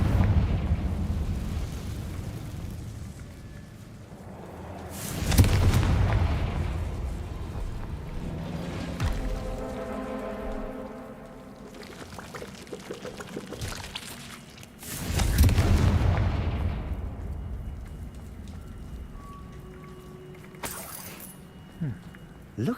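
Confringo blasting spell from Hogwarts Legacy, going off as two loud, booming blasts about ten seconds apart, each with a rumbling tail over quieter game ambience.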